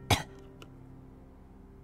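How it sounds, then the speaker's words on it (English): One sharp, wet cough from a character in the Fate/Stay Night video game, close and loud, followed by a faint second catch and then quiet. "I cough up blood."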